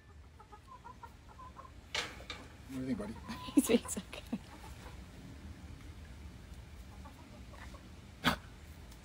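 Backyard chickens clucking softly in scattered short bursts, with a few louder squawks, while people talk quietly nearby.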